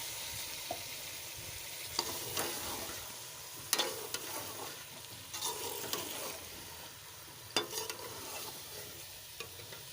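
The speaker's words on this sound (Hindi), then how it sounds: "इसे हमने 2-3 मिनट तक ऐसे भूनना है।" Pumpkin and lentil mixture fries in a pan with a little added water, a soft continuous sizzle broken by scattered scrapes and knocks of a stirring spoon, close and fairly quiet.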